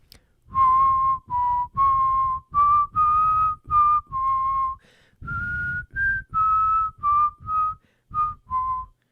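A single person whistles a slow, lyrical melody from the Harry Potter and the Prisoner of Azkaban film score alone, sustained notes separated by brief breaths, clear and close with no talking.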